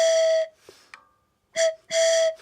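A homemade bellows whistle for a 5-inch gauge model train locomotive sounds in three steady, clear tonal blasts, the first long, then a short one and a longer one, with small clicks and handling noises in the gaps between.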